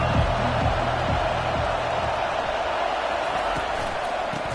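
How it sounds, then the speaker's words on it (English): Stadium crowd at an NCAA football game, a steady, dense roar of many voices that holds evenly throughout with no clear breaks. "This crowd bringing the energy and noise early."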